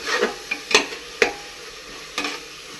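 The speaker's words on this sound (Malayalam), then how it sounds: "ഇട്ടിട്ടൊന്ന് മിക്സ് ചെയ്ത് വെക്കാം. പച്ചമുളകൊക്കെ ഒന്ന് മാറണം വരെ ഒന്ന് ഇളക്കാം" A ginger, garlic and green chilli paste is stirred as it fries in a pan for chicken curry. Several sharp spoon scrapes and clicks sound close by over a faint, low sizzle.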